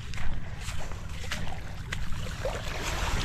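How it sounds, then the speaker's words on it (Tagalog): A diesel engine running a water pump to irrigate newly planted chili seedlings on a farm, a steady low chugging rumble that holds at a fairly even level, with some breezy outdoor noise over it. "ito na yung diesel, gumagana na rin"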